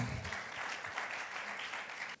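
Church congregation applauding together at a Sunday worship service, a steady dense wash of many hands clapping that holds evenly and then cuts off abruptly near the end.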